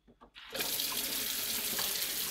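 Tap water pours steadily into a pot of rice for cooking, a loud continuous splashing rush that starts after a brief quiet moment and fills the rest of the clip with no talk.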